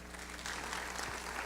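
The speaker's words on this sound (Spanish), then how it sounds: "¿Qué le parece si le damos un fuerte aplauso al Señor?" A church congregation gives steady, continuous applause at a general service, a dense wash of clapping heard from some distance at low level.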